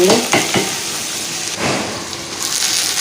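Chopped tomatoes sautéing in a pan, a loud close sizzle with a few sharp stirring scrapes early on and a swell of frying noise midway, no talking.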